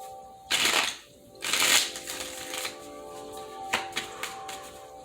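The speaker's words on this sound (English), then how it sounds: "3 more shuffles." Tarot cards are riffled and shuffled by hand in a couple of loud bursts, followed by softer, scattered card taps and flicks, close to the microphone.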